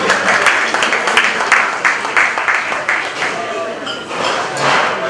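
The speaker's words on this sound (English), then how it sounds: "Let us give each all a round of applause for the wonderful environment." A reception audience at an HBCU student success event claps steadily and fairly loudly for about five seconds, a dense crowd patter that swells slightly near the end.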